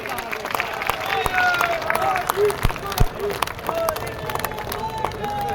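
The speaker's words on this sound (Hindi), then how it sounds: "आप सब जोरदार समर्थन करें इसका, जोरदार तालियां बजाएं, जोरदार।" Crowd applause fills the space at a political rally in Dhod, India, a steady wash of clapping with sharp individual claps standing out and scattered voices mixed in.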